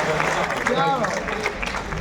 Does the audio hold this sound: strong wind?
no